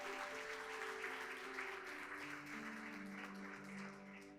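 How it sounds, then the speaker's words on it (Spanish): A church congregation applauds at a Sunday service, a dense wash of clapping mixed with sustained musical tones beneath, moderately faint and continuous throughout. "Dale un fuerte aplauso al Señor."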